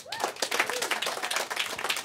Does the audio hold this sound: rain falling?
no